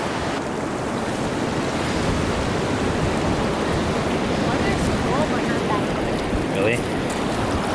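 Ocean surf at low tide, with the water's edge far out beyond wet sand, makes a steady, dense wash of broadband noise with some wind. A person briefly speaks over it.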